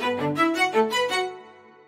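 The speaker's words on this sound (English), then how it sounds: "These little clicky noises are yet another instance of Quadra" Muted, metallic clicky synth tones from a randomized Quadra instrument patch flutter in a quick pulsing run for under two seconds, then trail off into a soft decay.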